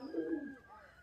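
A pigeon coos once up close in a loft of fancy show pigeons, a short rolling call that fades out over about a second.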